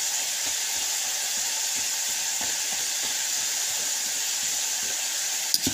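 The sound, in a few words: French fries frying in oil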